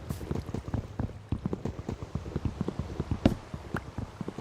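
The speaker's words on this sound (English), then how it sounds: "it's raining and I'm in the rain" Rain falling in a Minecraft world, a steady soft patter with rapid irregular taps layered over a constant low wash, continuous and fairly close throughout.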